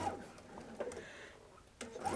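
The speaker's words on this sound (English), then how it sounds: "now I'm going to sew on that line" Sewing machine stitching quilt pieces along a marked line, two short close bursts of mechanical whirring separated by a quiet pause.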